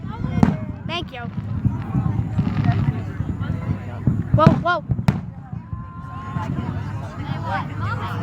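Fireworks going off outdoors, several sharp pops and crackling bursts with whistling rising tones, close and loud, interleaved with people talking nearby.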